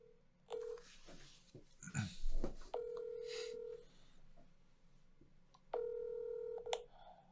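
Telephone dialing: a string of keypad tones followed by two long electronic ring tones for an outgoing call, faint and heard alone.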